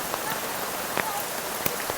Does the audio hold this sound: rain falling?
yes